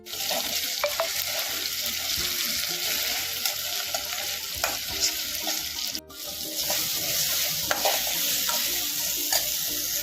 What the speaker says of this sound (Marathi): डाळीला फोडणी देतो.